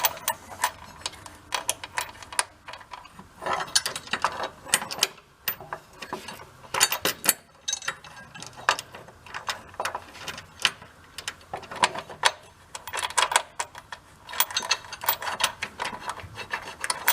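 Ratcheting clicks and metallic ticking come from a bolt being screwed in on a totaled Toyota, in irregular bursts of close, sharp ticks with short pauses between them.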